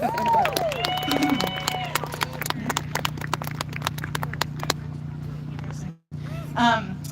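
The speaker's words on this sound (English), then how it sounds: "Give them a round of applause." Scattered hand claps from a community gathering at a Passover Seder in Denver, sharp and irregular through the first few seconds, mixed with people talking over a steady low hum before fading out.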